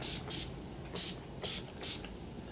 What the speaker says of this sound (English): let me set this with my favorite setting spray, Skindinavia Bridal, the makeup finishing spray